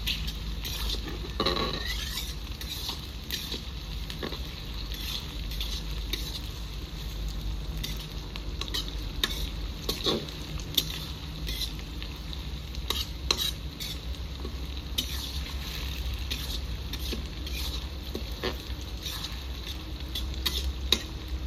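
Onion fries with whole ginger and garlic cloves in a village-style pot for Rajasthani jungle maas mutton, with a constant crackling sizzle and frequent stirring scrapes and clinks. Nobody talks.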